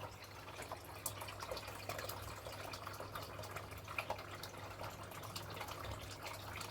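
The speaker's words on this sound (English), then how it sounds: "My snuffer. So this will just help me wash it down." A gold pan washed down with a snuffer bottle during a micro sluice panning session, a faint trickle and drip of water over a steady low hum, quiet and close, without talk.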